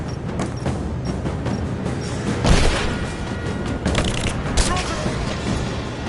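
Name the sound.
gunfire in the video game Rise of the Tomb Raider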